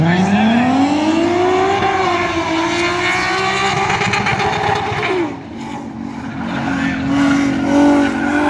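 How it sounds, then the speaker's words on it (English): Corvette C7 ZR1 racing a Tesla at the track, a loud rising and falling engine roar with climbing revs and a downshift midway, heard close amid crowd noise and a faint public-address voice. "In case you couldn't hear Cletus, this is a brand new C7 ZR1. I guess not brand new, versus a Tesla"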